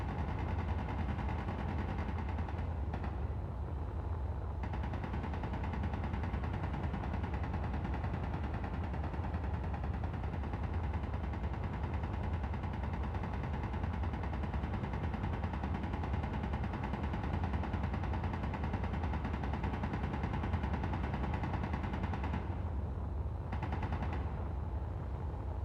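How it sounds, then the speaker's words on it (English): Continuous gunfire in the Space Engineers video game: a dense, unbroken rattle of rapid shots at steady loudness, sustained for the whole stretch with no pauses. "we're definitely being shot at"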